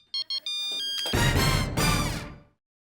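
A phone ringtone plays loudly and close, a few short electronic beeps first, then a sustained bright ringing melody that stops abruptly.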